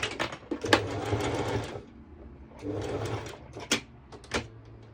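A sewing machine stitches a ruffled mini skirt in close, loud bursts, running steadily for about a second and a half and again later, with brief clicks and pauses between the runs of stitching.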